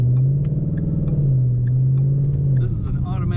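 Supercharged 2013 Ford Mustang Roush Stage 3 with an automatic transmission, giving a steady, deep engine rumble that holds evenly throughout with a slight rise near the end, close and fairly loud.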